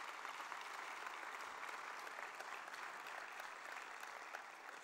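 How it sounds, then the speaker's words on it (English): Sustained applause from a conference audience thanking the event's sponsors, a dense, even wash of many hands clapping at steady loudness for the whole stretch with no voices over it. "Please give them a wild, rapturous applause"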